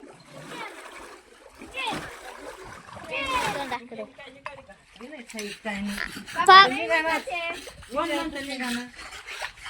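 Water in a household water tank being stirred and sloshed during cleaning, with intermittent splashes at close range under frequent talking, including a voice.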